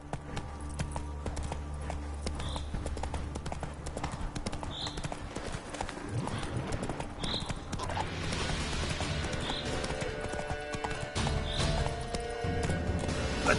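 Roach the horse from The Witcher 3 galloping, hooves clip-clopping in a steady, quick rhythm under ambient game sound with occasional faint chimes, close and moderately loud.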